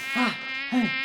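A bee buzzes close by in two short swells, a thin, droning hum that rises and falls with no other sound around it.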